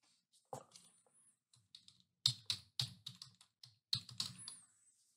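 Username being typed on a computer keyboard, a quick irregular run of close key clicks in small clusters with brief pauses between.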